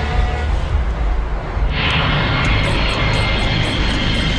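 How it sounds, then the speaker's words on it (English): A Concorde supersonic jet airliner roars loud and close, a dense rumbling engine noise that swells brighter partway through and stays steady. "It starts with a supersonic flight on Concorde to New York."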